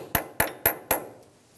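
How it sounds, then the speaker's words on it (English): Four even, ringing metal taps of a hammer seating an axle nut cap on the front hub of a 2007-2017 Ford Expedition, close and crisp, each dying away quickly, with a short quiet tail after the last. "You can tap it with a hammer into place."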